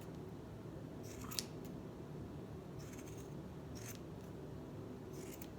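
Scissors snip at a yarn pom pom in short crisp bursts, four or five separate cuts spread across a quiet, steady background hum with no talking.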